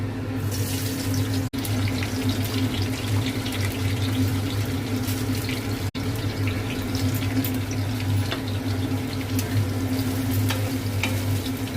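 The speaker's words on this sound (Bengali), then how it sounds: "এটা একটু ফ্রাই হবে।" Onions, capsicum and green chillies frying in a pan for chilli chicken, a steady loud sizzle and hiss that runs unbroken throughout, close up with no talking.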